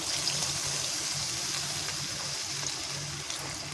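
A little water poured into a pan of potatoes seasoned with salt, turmeric and chilli powder, giving a soft steady splashing stream with a faint low hum behind it.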